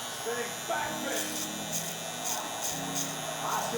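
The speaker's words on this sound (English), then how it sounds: "now I'm gonna go on with my trimmer" An electric hair trimmer running steadily while cutting a taper fade: a continuous close buzzing hum with faint snipping texture, with no talking throughout.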